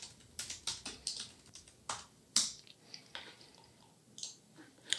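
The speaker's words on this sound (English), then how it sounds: "So if we type terraform apply" Keys clatter on a computer keyboard as a command is typed, a quiet close run of uneven clicks with short pauses between bursts and no talking.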